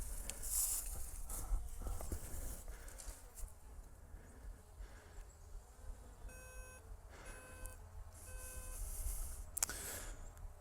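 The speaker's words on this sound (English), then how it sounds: "So it's beeping, telling me that it has lost signal." A Skydio 2 drone emits a few short, evenly spaced electronic beeps after losing signal, heard amid outdoor woodland ambience with footsteps and rustling.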